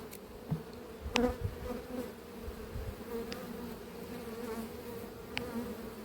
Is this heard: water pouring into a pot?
no